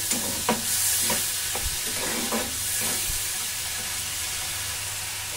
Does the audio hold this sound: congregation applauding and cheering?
no